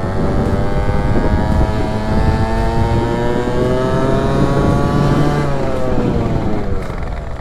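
A Yamaha Aerox 50cc scooter with a Malossi engine revs steadily and loudly up close, its rising whine holding for several seconds and lacking power.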